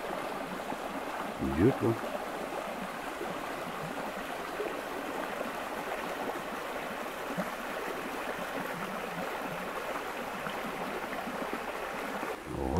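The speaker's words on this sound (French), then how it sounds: "comme c'est chouette de progresser en sous-bois avec ce joli petit ruisseau qui coule." A small woodland stream flows steadily beneath the trees, a constant close babble and trickle. Someone speaks briefly in French over the water near the start.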